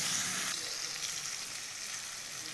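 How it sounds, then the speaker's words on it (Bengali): Loud, close sizzling of potatoes and vegetable stalks frying in oil, a dense continuous hiss throughout. "এই দেখুন আলু আর ডাঁটাটা প্রায় ভাজা ভাজা হয়ে গেছে"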